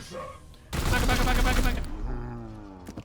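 Gunfire in the video game Warhammer 40,000: Chaos Gate - Daemonhunters: a loud, dense burst of shots lasting about a second, followed by a fading tail and softer game sounds.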